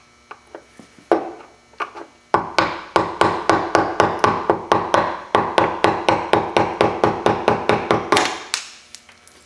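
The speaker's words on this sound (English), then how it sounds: "they just pound out this top side" Metal hammer blows driving a worn bushing out of the upper door hinge on a Silverado 2500HD truck: a few scattered taps, then a long run of loud, evenly spaced ringing strikes, close up with no talking.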